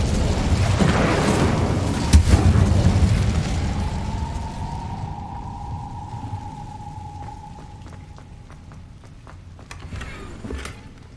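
A burst of fire from the Incendio spell in Hogwarts Legacy, a loud whooshing blast that flares up and then fades into a lingering crackle and hum.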